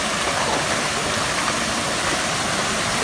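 A small waterfall at Santol, La Union, pouring in a loud, steady, unbroken rush of falling water.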